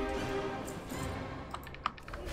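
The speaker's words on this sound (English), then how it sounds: "It's bad enough as is right now with me pounding away on the keyboard." Someone types on a computer keyboard while playing World of Warcraft, producing quiet, rapid, irregular clicks against a steady background hum.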